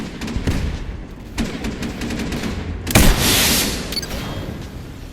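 Video game gunfire in a multicrew tank combat game: rapid bursts of shots crackle, then a sharp impact and a roaring burst of flame as a vehicle is hit and set alight.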